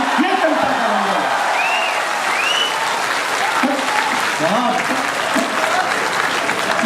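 Audience applause at a Hindi poetry recital event, sustained dense clapping from a large crowd filling the hall, loud and continuous, with a few voices cheering and calling out over it.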